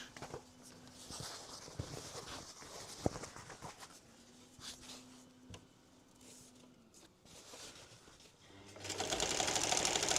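A sewing machine back-stitching a box cushion for a Transit Connect van bed, running in short, uneven bursts of rapid needle chatter with small clicks and handling noise, then a louder whirring run at the end.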